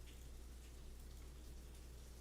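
Faint, steady rain falls continuously as a soft, even hiss with no other sounds.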